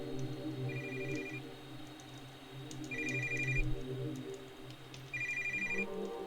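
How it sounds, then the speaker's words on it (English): A telephone rings in the Feast Your Eyes video game, three evenly spaced electronic ring bursts over a quiet ambient drone, with no talking. "What is it now, phone?"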